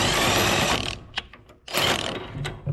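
A socket wrench ratchets rapidly on bolts of a Gleaner combine slip clutch, loud and close, in two long whirring bursts separated by a brief pause with a few clicks.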